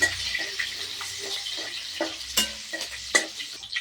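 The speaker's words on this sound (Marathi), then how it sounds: "आता आपण यात मिरची टाकून घेऊया. मिरची चांगली तळू देऊ." Green chillies frying in oil with onions and peanuts for upma give a soft continuous sizzle, broken by light scrapes and taps of a spoon stirring the pan nearby.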